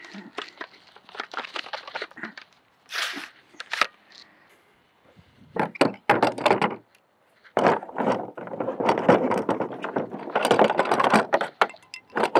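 Laser level gear being packed into its case and the lid closed, a run of close clattering, rustling and plastic knocks in uneven bursts with brief pauses.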